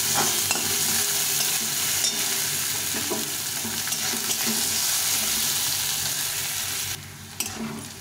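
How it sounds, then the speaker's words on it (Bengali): Chopped onion fries in oil with a bay leaf, giving a steady close sizzle with occasional stirring scrapes that drops off near the end. "পেঁয়াজটাকে ভালো লাল লাল করে ভেজে নেব।"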